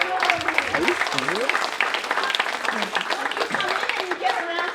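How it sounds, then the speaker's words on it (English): Audience applause at an Asian-American Pacific Islander trailblazer awards event, a steady wash of many hands clapping with voices talking over it. "you get a round of applause"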